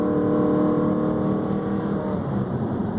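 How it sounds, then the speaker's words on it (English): 2014 Honda Accord Sport with a K&N Typhoon cold-air intake and CVT transmission, its engine giving a steady, loud intake roar and hum that holds a constant drone without shifts for a few seconds. "It's just crazy how much sound comes from this engine"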